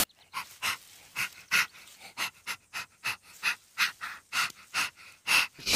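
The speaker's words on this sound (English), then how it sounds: "In my big book about dogs, I found out that dogs keep cool by panting." A dog pants rapidly and loudly close by on a hot day, quick rhythmic breaths repeating steadily with no talk over them.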